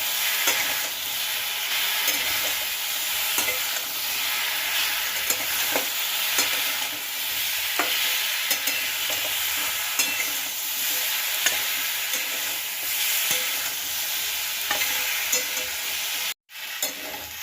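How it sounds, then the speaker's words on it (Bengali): Chopped ash gourd and radish stirred in hot oil, a steady sizzle with soft scraping of the spoon running continuously, close up and fairly quiet, with a brief break near the end. "দেখো চাল কুমড়ো আর মূলো আমি তেলে একটুখানি নেড়ে দিয়েছি"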